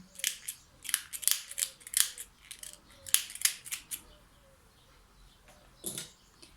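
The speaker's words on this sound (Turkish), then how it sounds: "Biyemizin fazlasını keselim." Scissors snip off excess bias tape along the edge of a trouser pocket flap, a quick run of close, crisp cuts followed by a pause and one last snip.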